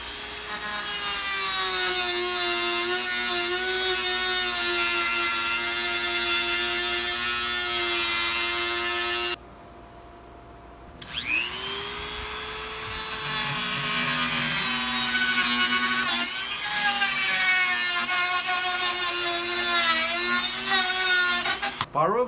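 A power tool cuts and splits a tube for a homemade flute, making a loud, steady, pitched mechanical whine that stops briefly midway, then restarts with a gliding pitch before running on.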